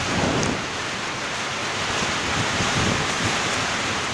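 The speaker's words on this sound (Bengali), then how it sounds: "বৃষ্টি" Steady heavy rain pours down with a dense, continuous hiss, loud and unbroken throughout, with no voices.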